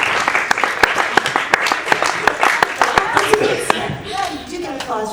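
Audience applause for a singer at a Eurovision 2015 meet-and-greet in Vienna: several seconds of sharp, close hand claps from a small crowd, fading into voices talking near the end.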